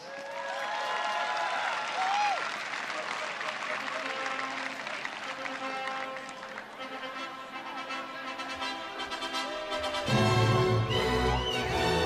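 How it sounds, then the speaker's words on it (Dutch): An audience applauds after a gospel choir at the live opening of the cultural season in De Harmonie, sustained clapping mixed with lingering music, and a deeper musical swell joins near the end. "Geef nog één keer een daverend applaus."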